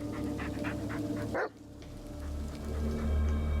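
A dog barks in the Blair Witch video game, a short bark midway over a dense outdoor ambience with steady background hum and rustling, no speech.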